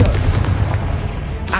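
A heavy, rumbling blast of the Confringo spell in Hogwarts Legacy, a sustained booming explosion that fills the moment loudly and then trails off.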